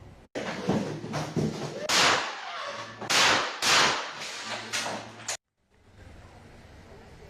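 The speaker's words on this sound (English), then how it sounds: "You hear the gunshots there." Several sharp, loud gunshots burst in quick irregular succession during a deadly double shooting in a Florida city, mixed with shouting voices, then the sound drops out abruptly to a quiet background.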